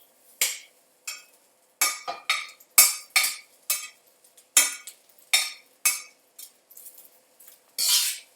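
Cantonese-style fried rice is turned in a pan with a metal utensil, giving a dozen or so sharp, separate scraping clinks in an irregular rhythm, close up with no voices.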